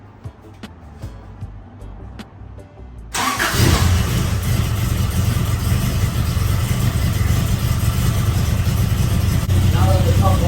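A 1987 pickup truck engine cranks after a few faint clicks, catches and settles into a loud, steady warm-up idle close by, with a voice briefly heard over it.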